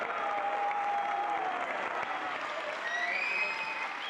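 Spectators cheer and applaud during the Formula 4 podium ceremony at Circuit Ricardo Tormo, 2024 FIA Motorsport Games: a continuous wash of crowd clapping and cheering, steady and moderately loud throughout, with faint whistle-like tones rising near the end.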